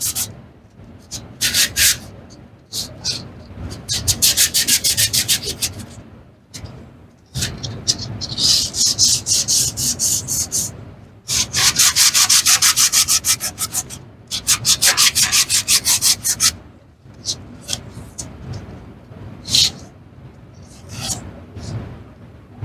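A sheet of 220-grit sandpaper worked by hand across the surface of a boat portal window screen, giving loud, close, rhythmic rasping strokes in long runs broken by brief pauses.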